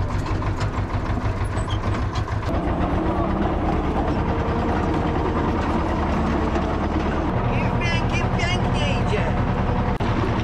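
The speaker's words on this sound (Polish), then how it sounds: "Rega, co tak stuka? A tam bolec jest na dolnym zaczepie." Steady tractor engine drone with a repetitive metallic knocking from a hitch pin left in the lower hitch, close and continuous, with faint talk briefly over it.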